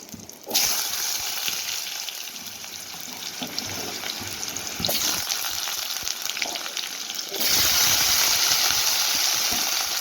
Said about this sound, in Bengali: প্রথমে আমি আলুগুলিকে ভেজে নিচ্ছি